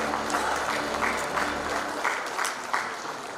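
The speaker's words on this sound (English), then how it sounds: "A big round of applause for our dignitaries for being a part" A conference audience at a ports event in Visakhapatnam applauds dignitaries, sustained crowd clapping at moderate volume that stays even for a few seconds, with a faint voice briefly audible beneath.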